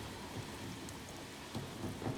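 Rain falls steadily in a dense, hissing wash, with low rumbling swells that suggest distant thunder, quiet and alone with no voices.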